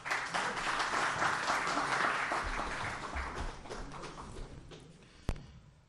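Applause from an audience in a hall, a dense crowd of clapping that swells at the start and slowly tapers away, ending with a single sharp knock.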